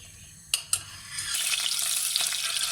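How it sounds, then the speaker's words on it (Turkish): Two sharp clicks as the stove is lit, then a rising sizzle as butter melts and crackles in a hot pan, building steadily and staying close and fairly loud. "Tereyağım eriyene kadar bekliyorum."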